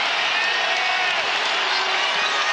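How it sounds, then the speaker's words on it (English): A packed basketball arena crowd roars during a Kansas State vs Texas Tech NCAA game, with a dense, steady wash of cheering and noise held at a constant high level throughout. "The roar of the crowd comes again as the Red Raiders D up"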